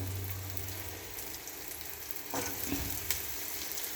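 Vegetable stems fry in a pan with a steady, close hiss and crackle, broken by a brief stir or shift of the contents midway; no voices.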